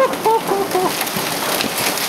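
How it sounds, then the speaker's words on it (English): Hail falling in Phoenix during a July storm, a steady broadband patter of ice hitting surfaces like heavy rain, continuous and close, with a few faint bird-like chirps near the start. "It's hailing"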